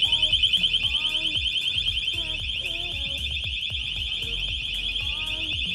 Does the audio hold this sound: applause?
no